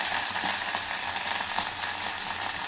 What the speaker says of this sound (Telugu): ఈ అల్లం పేస్ట్ పచ్చివాసన పోయేంత వరకు వేయించుకొని